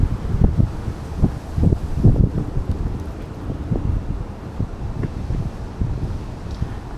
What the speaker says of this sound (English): apart from the wind that blasts you every once in a while